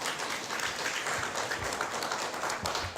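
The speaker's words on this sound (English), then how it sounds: "give them a round of applause" Audience applause at a public safety and counterterrorism forum in Hawaii, a steady broadband patter of many hands clapping at moderate level throughout, with no speech over it.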